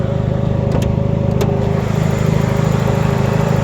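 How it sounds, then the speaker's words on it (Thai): A Toyota Corona ST-150 with a newly installed engine idles steadily, a close, even low rumble with a faint whine and a couple of brief clicks, and no voices over it. "เครื่องติดแล้วนะครับ"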